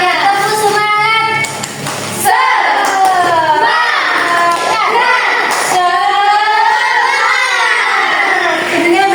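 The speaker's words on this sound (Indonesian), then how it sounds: "Oke, tepuk semangat." Classroom of children doing a rhythmic clapping cheer, loud chanted voices shouting together in bursts with hand claps mixed in, close and lively throughout with a brief dip near the start.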